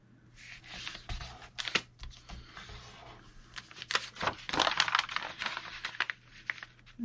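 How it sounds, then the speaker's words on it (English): Four sheets of grungy craft paper being folded in half for a notebook signature; close, crisp rustling and crinkling come in irregular bursts, with a louder cluster of crackles partway through. "So let's fold them in half."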